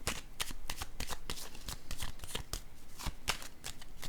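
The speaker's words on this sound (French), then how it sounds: "Je vais piger une carte sur elle." A deck of playing cards being handled as a card is drawn: a rapid, steady run of crisp papery flicks and snaps, close up, with no voices.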